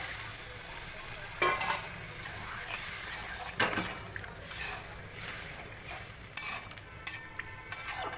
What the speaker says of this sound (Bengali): এবার আলু দিয়ে ভালো করে কষিয়ে নিলাম।